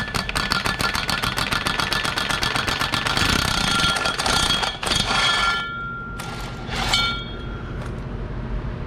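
A power hammer taps a rear output shaft seal into a 1998-2003 Volkswagen Passat 4motion transmission in a fast, even rhythm, then stops and gives a few short bursts with quiet gaps between.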